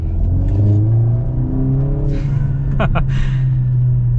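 A 2023 Mercedes-AMG GLA 45 in Sport Plus mode accelerates hard, a steady loud engine drone rising in pitch with a couple of sharp crackles near the end, while a person talks over it.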